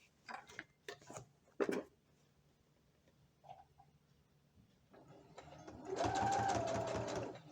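A sewing machine stitches a hem on the right side of fabric for homemade shorts, with a few sharp clicks and taps early on, then a steady close whir of stitching building over the last two seconds.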